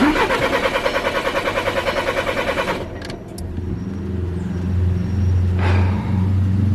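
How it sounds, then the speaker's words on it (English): Volkswagen Passat engine cranking without catching: a loud, steady rhythmic starter churn for about three seconds that cuts off, followed by a low idle-like rumble and a brief second surge. "the car still is not starting"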